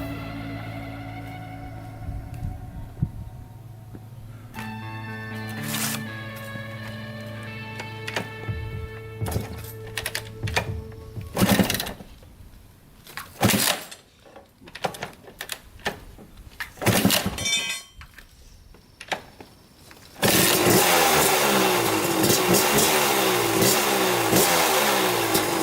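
A Kawasaki KX 250 dirt bike engine turns over and catches after a fault repair, revving in loud bursts between clunks and sputters, then settling into a steady, loud close-up run near the end.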